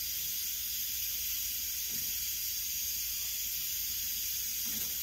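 A pressure cooker stewing goat meat and pork for a Haitian soup hisses steadily, a continuous bright high-pitched steam hiss with faint low kitchen rumble beneath and no voices.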